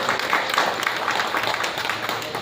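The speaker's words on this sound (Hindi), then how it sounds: "करताली दे समस्ते" An audience at an Odia opera event claps together, a dense even wash of applause throughout.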